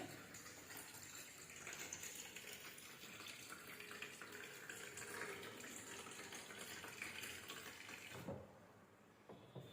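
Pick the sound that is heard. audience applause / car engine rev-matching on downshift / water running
water running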